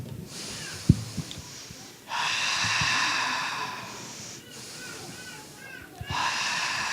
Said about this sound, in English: just to take slow, deep breaths like this